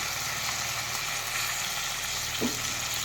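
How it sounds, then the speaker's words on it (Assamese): Fish frying in hot oil, a dense, steady sizzle and crackle that runs unbroken throughout, close and fairly loud, with a single faint clink near the end. "এতিয়া মাছ ফ্ৰাই কৰি আছোঁ মই।"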